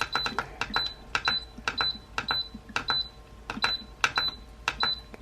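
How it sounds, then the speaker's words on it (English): A Himalayan salt lamp diffuser beeps repeatedly in a steady rhythm, short high-pitched electronic tones over soft clicking and a faint hum. "I don't want to wake them with the beeping"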